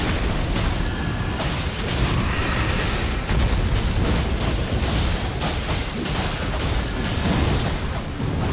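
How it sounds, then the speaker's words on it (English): A constant loud roaring, rumbling wash of explosions fills a video game boss fight, dense and continuous for several seconds, with no talking over it. "I don't know that the explosion is doing everything that I want it to do."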